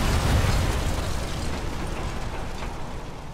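A Flak 88 gun in Sniper Elite 3 blows up with a rumbling explosion: a heavy low burst at the start that decays into a long, loud, noisy roar.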